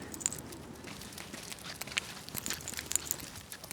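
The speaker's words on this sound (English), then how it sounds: "I hear the rattle of the leash and our footsteps blend." Footsteps of a person walking a dog around a residential block, soft repeated steps mixed with light metallic leash rattles, quiet and close, no talk.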